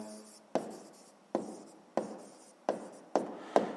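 Pen writing down a maths answer on paper, six separate quiet scratchy strokes at a steady pace, close and alone.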